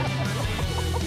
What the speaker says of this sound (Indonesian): Ini ayam laga nih Pak Dewa.